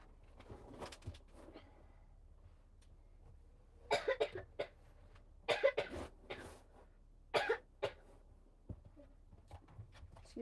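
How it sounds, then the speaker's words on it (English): Several sharp coughs in short bursts, close by, with quiet pauses between them and a few softer throat sounds. "Cough right in your ears."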